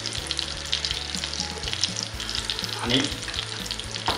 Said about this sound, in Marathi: परतून घ्यायचे